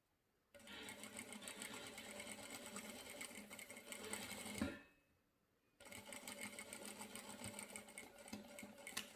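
Sewing machine stitching bias binding onto a maternity organizer bag to finish the seam, a steady close mechanical whir that stops briefly and then resumes.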